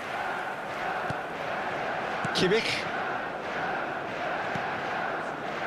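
A stadium crowd in an eFootball match gives a steady, distant roar under continuous commentator talk, with a short swell of shouting partway through.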